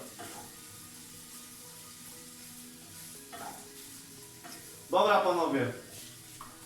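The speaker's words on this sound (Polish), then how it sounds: "Chwilę to już się gotuje, znaczy smaży." Eggs for scrambled eggs fry in a pan on a home stove, giving a soft, steady sizzle, with a brief louder burst of crackling partway through, under a voice.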